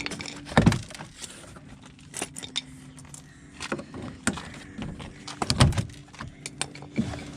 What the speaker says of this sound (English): pull all the clips out all around the door.